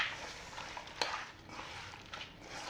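Ghee is stirred into dum biryani rice with a spoon, soft scraping and clinks against the pot with a light sizzle, one sharper knock near the middle, no talking.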